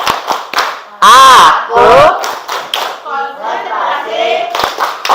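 A class of students claps out the tepuk konsentrasi routine in a classroom, crisp hand claps opening and closing a stretch of loud, rhythmic group chanting.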